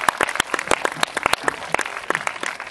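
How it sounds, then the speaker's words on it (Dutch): A small audience claps for the cast and director of the film Pijnstillers, with sparse, uneven individual hand claps close by, crisp and irregular, with no voices. "geef ze even een groot applaus"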